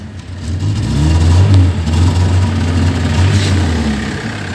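A VAZ 21099 car with a misfiring engine revs up from idle, a loud, close, rough low drone that rises and holds, wavering unevenly, then eases back down.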